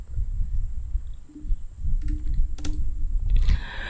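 Fingers tap on a computer keyboard while entering text into an Excel sheet, quiet clustered clicks and key presses at close range over a low room hum, with a sharper clack near the end.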